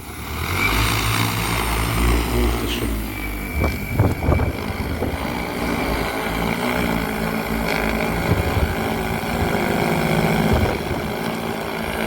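An XAG P100 Pro agricultural drone spins up over a snowy winter-wheat field for top-dressing, its propellers giving a loud, steady whirring drone with a constant tonal hum, close by and with no talk.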